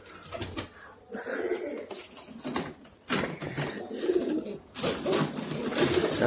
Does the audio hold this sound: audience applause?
no